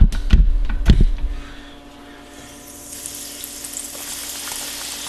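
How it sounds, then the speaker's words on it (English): Coated okra dropped into hot oil, with a few loud splashy thumps at the start settling into a steady, soft sizzle of frying. "And now, when I put it in the oil,"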